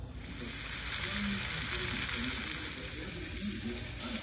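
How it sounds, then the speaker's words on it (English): Seasoning sautés in a pot for Jamaican turn cornmeal, giving a steady, fairly loud sizzle and crackle that runs unbroken through the whole stretch with no talking. "This is the seasoning that's gonna be sauteed"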